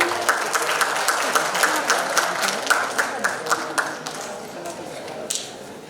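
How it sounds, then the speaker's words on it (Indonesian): Audience applause at a youth entrepreneurship bootcamp and festival, a burst of claps that fades out over several seconds, with an announcer speaking over it. "Beri tepuk tangan sekali lagi."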